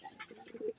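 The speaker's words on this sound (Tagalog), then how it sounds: "Yun mga kalapatids, palalabasin muna natin yung mga ibon natin." Pigeons cooing softly, with a few short, faint coos and a chirp against a quiet background.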